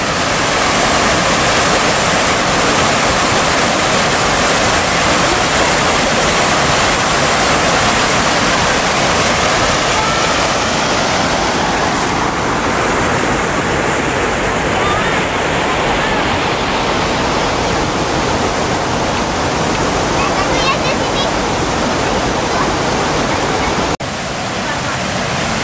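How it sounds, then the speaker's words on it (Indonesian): Water rushes steadily through an irrigation channel feeding rice paddies in a Javanese village, a loud, continuous broadband roar that holds constant throughout, with brief faint voices near the end. "Ini saluran irigasi untuk mengaliri sawah-sawah ya kali."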